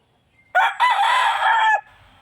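A Boston Black gamefowl rooster lets out one loud, close crow lasting just over a second, a sharp rising start followed by a sustained call that breaks off abruptly.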